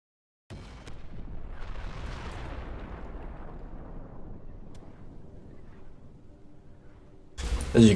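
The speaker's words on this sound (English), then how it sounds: "I skipped the trigger by exploding myself" A large explosion booms as the player blows themselves up in the video game ULTRAKILL, a sudden blast that rumbles and slowly decays over several seconds before another loud burst cuts in at the end.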